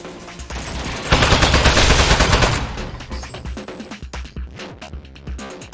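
Rapid turret gunfire blasts out in the video game Aperture Desk Job, a loud, dense burst of automatic shots that trails off into scattered single bangs.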